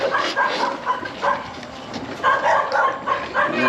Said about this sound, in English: I remember these damn dogs here were always barking